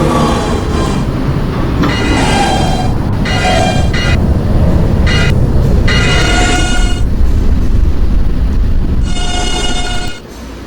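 A Potatoburg-bound R184 subway train on the D line in a video game runs steadily throughout, with a continuous loud rumble, rail noise and repeated bands of motor whine rising and falling, fading slightly at the very end.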